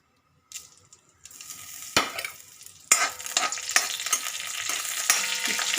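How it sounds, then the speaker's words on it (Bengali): Whole cumin, dried chilli and bay leaf fry in soybean oil at home while cooking khichuri, giving a loud, steady sizzle broken by stirring scrapes and a few clinks of a pan. "আমি একটু জিরে, গোটা জিরে, একটু শুকনো লঙ্কা, তেজপাতা এগুলো একটু দেব।"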